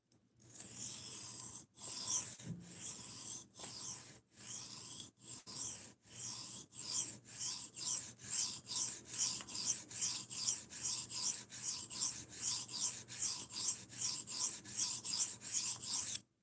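A large Gerber folding knife blade is drawn across a sharpening stone in steady rhythmic strokes, close gritty rasping passes that grow regular and quicker, each separated by a brief pause, with no talk.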